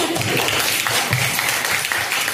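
Students in a classroom clap together in a dense burst of applause, close and fairly loud, with a few voices mixed in underneath.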